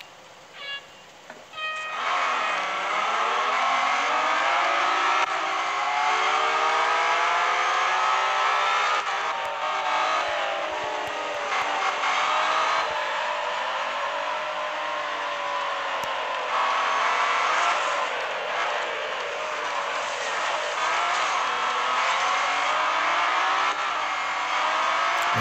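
A full grid of Jaguar and Mazda race cars in Real Racing 3 at Brands Hatch, engines surging and shifting through gears in a loud, sustained roar after a short quiet start.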